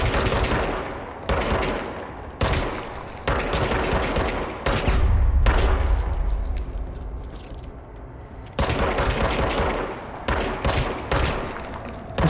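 Sustained bursts of rapid gunfire from a weapon in the video game Control, loud and close, broken by short pauses between volleys.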